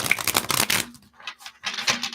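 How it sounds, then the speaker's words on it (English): Tarot cards being shuffled by hand, a dense riffling burst up close followed by two shorter bursts after a brief pause, with no voices. "I'm going to shuffle so you guys can see I'm shuffling."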